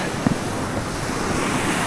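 Atlantic Ocean surf washing onto a Florida beach, a steady broadband roar with gusty wind buffeting the microphone, close and fairly loud, with no voices.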